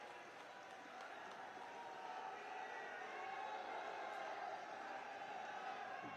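A large outdoor crowd at a chief minister's public event claps and cheers as he arrives, a faint, distant, continuous roar of applause with scattered whoops.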